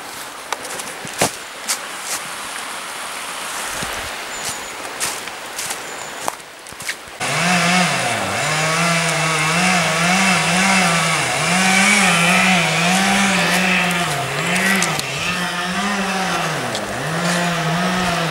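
A chainsaw starts up partway through and keeps running close by, its engine rising and falling in repeated revving surges after a quieter stretch of scattered knocks and outdoor noise.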